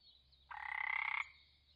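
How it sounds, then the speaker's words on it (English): A Wallum sedge frog gives one sustained buzzing call lasting under a second, fairly close and clear over faint high-pitched insect or background hum. "Wallum sedge frog."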